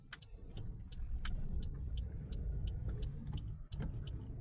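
Car driving along a quiet road in Trento, Italy, on the way to a supermarket, with a steady low engine and tyre rumble throughout and occasional faint higher clicks, no voices.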